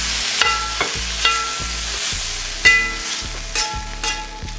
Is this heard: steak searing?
yes